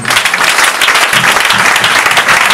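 A church congregation breaks into loud, dense applause, sustained clapping from many hands filling the space evenly from start to finish, with no talk over it.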